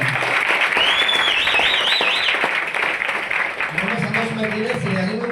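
Audience applause at a Tamil-language gathering honouring a man, a steady wash of clapping throughout with a voice speaking over it near the end.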